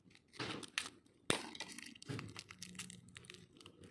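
Plastic packaging for a jigsaw puzzle crinkles and crackles in quiet, irregular bursts as it is pulled open, with one sharper snap partway through.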